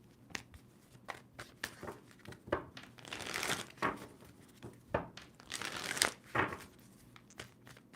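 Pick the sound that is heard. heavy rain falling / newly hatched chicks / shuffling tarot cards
shuffling tarot cards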